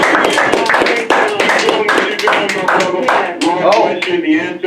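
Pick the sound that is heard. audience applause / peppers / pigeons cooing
audience applause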